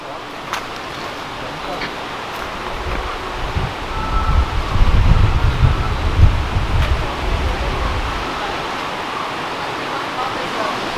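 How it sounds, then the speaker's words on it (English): A waterfall in the forest near Kodaikanal gives a constant broadband rush, swelling louder and deeper midway before easing back, with wind buffeting the microphone. "This is definitely a waterfall as well."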